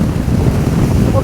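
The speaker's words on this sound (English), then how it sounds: "Some cracking waves smashing onto those rocks." Storm waves smash onto rocks along a coast in a loud, continuous roar, with heavy wind buffeting the microphone throughout.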